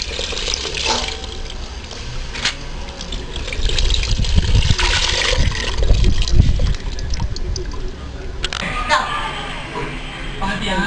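Tamarind water pours and splashes into a pot of fish curry in a steady, fairly loud stream, with kitchen clatter around it.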